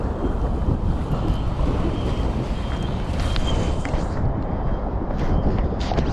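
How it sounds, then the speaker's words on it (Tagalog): Strong wind roars by the sea during rough waves, a constant heavy rumble buffeting the microphone with no break, the surf churning underneath. "lakas ng hangin"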